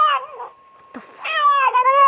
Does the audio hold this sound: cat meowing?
yes